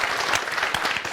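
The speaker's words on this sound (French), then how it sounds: "On va les applaudir." A TV studio audience in Burkina Faso breaks into brief, close applause, a dense burst of many hands clapping at once for just over a second.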